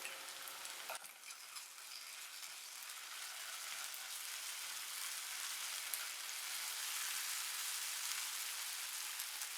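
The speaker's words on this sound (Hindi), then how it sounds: "अब इसमें ऐड करेंगे 1 टीस्पून अदरक लहसुन पेस्ट और इसको भी 1 से 2 मिनट फ्राई करेंगे" Ginger garlic paste fries in a pan with a bright, steady hiss and fine crackle, close and unbroken, with one soft knock early on and no voices.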